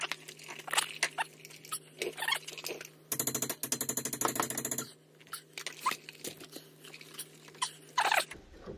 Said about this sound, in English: So first we need to loosen this nut, and that's it, 24 millimeter.